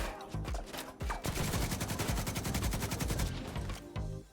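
Light machine gun fire in the video game Division 2 rattles in long, rapid bursts, loud and close, with a few single shots before and after the sustained volley.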